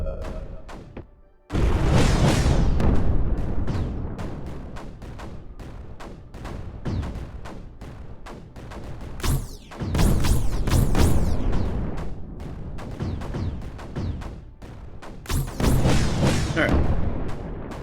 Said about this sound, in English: So mortars are doing their job.